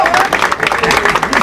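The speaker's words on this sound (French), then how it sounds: "Applaudissez! Applaudissez." Audience applause at a football friendly between Comoros and Burkina Faso, a short, loud burst of dense clapping with crowd noise and voices mixed in.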